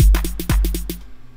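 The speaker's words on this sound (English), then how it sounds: "And pattern number three, the snare roll." An Ultrabeat sequencer plays a snare roll: two heavy kicks half a second apart sit under a rapid, even run of crisp snare hits that stops abruptly after about a second, heard alone.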